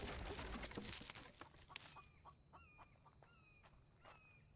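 Chickens cluck softly in The Infected video game, several short rising calls spaced about a second apart, faint and fairly close, following a burst of heavier noise at the start.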